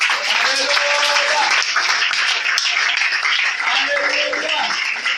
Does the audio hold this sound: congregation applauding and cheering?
yes